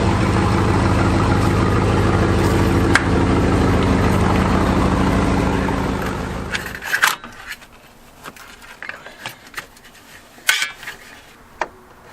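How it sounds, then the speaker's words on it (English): A G-Body car's engine idles loudly and close in a garage for about seven seconds, then cuts off, leaving scattered faint clunks and rattles. "let's get the car backed out and let's get this show on the road"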